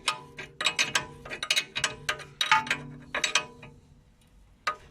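A wrench works a steering ball joint on a Mercedes CLK200 W208, giving a run of quick metallic ratcheting clicks in short bursts with brief pauses, close and fairly loud, with no talking.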